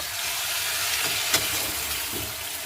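Water poured into a pan of frying green jackfruit and potatoes for a vegetarian kosha curry brings a steady, loud, close sizzling hiss, with one brief sharp crackle midway and faint stirring scrapes, no voices.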